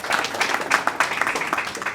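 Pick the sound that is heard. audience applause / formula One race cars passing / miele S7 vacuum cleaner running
audience applause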